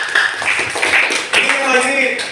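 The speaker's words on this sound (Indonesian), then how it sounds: "Kita tepuk tangan dulu." A classroom group claps together in a steady, dense patter that lasts the whole stretch, loud and close, while a voice speaks over it.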